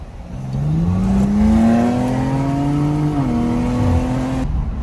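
An Audi RS5 accelerates hard, its engine note climbing steadily in pitch over several seconds before a brief dip as it shifts, then holding a strong, loud drone with no talk.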